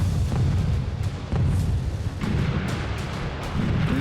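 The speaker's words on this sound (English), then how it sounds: "The French artillery began to shell Fort Souville to halt the German advance." French artillery shells bombard Fort Souville at Verdun, heard as a series of heavy booms and rumbling blasts repeating every second or so over a continuous low roar.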